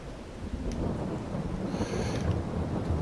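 Steady rain pours with a deep rumble of thunder rolling underneath throughout, during a storm in Farming Simulator 22 on the Calmsden farm map.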